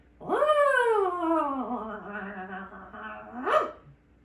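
A single voice imitates a police siren with a long, wavering wail that rises and falls, ending in a short upward squeal.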